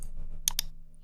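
A computer mouse gives two quick crisp clicks about a tenth of a second apart to submit an online form, heard close against a faint low hum.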